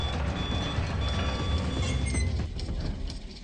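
In the Sleep Awake video game, a pump alarm sounds in a basement with steady high electronic beeping over a dense, noisy mechanical background, and no one speaks.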